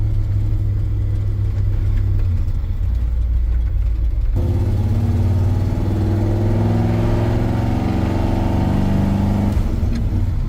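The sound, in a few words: 1986 GMC 3500 454 engine driving in third gear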